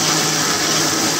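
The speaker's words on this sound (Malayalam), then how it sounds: "ഇനി നമുക്ക് പാല് കുറച്ച് ഒഴിച്ചു കൊടുത്തിട്ട് ജ്യൂസ് അടിക്കാൻ തുടങ്ങാം" Kitchen blender whirring continuously as it purées apple pieces with sugar and milk for apple ice cream, a loud, steady motor drone filling the short stretch with no voices.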